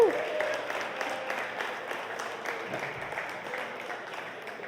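Steady audience applause from a crowd, moderately loud and continuous, gradually tapering in intensity.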